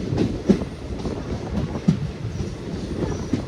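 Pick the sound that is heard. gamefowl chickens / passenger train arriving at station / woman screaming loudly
passenger train arriving at station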